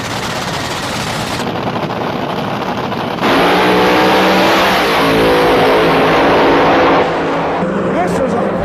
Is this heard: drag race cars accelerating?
yes